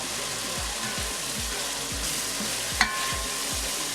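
Tomato sauce for Nigerian efo riro frying in a pan, a continuous even sizzle with regular soft stirring scrapes about every half second and one brief metallic clink, close and alone.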